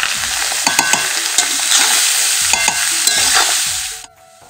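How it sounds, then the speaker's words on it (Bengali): Carrots fry in a pan with a loud, dense sizzle and several sharp spatula scrapes and clicks, close up; the frying noise cuts off abruptly near the end, leaving near silence. "গাজর ভাজা কিন্তু আমি বসিয়ে দিয়েছি"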